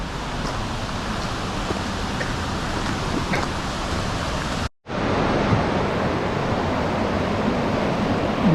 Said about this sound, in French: On est sur un pont le long de la rivière.